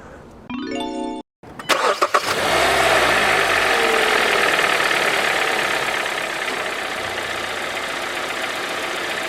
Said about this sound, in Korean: 이렇게 초기 시동을 걸었을 때 엔진에 떨림이 있는지